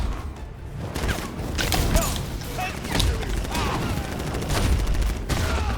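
Enemies fire guns in the video game Batman Arkham Knight, a dense, continuous crackle of rapid shots and impacts mixed with combat thuds, while a person talks over the action.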